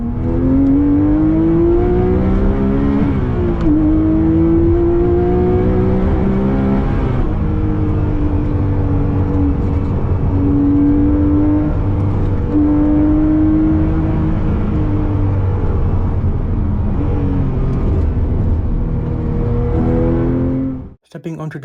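A Porsche 911 GT3 RS 997.2 with its rear-mounted Metzger flat-six revs and pulls hard, a loud continuous engine note rising and falling through the gears for about twenty seconds before cutting off abruptly.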